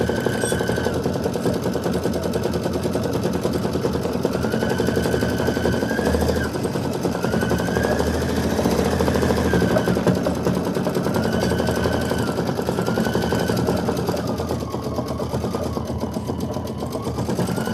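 A multi-needle embroidery machine stitches continuously, a loud rapid mechanical chatter with a rhythmic rising and falling whine as the frame moves, running steadily without pause and with no talk.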